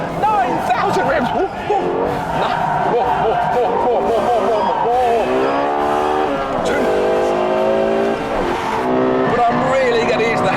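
A Lexus with a naturally aspirated 4.8-litre V10 revs hard and high on a track, a loud sustained wail that climbs and falls through gear changes, with tyre squeal mixed in and a voice talking over it.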